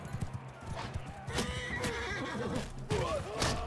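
Horse whinnying in the video game Bannerlord, several loud neighs over clip-clop hooves and ambient game sound, with faint background voices.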